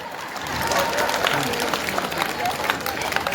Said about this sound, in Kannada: ಅವ್ರಿಗೊಮ್ಮೆ ಜೋರು ಚಪ್ಪಾಳೆ ಹೊಡಿ